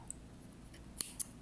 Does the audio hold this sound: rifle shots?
no